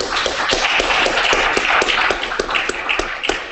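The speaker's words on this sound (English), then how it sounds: "let's give him another round of applause and welcome back" A small audience claps for a returning speaker, a close, fairly loud burst of individual handclaps that patters unevenly and thins toward the end.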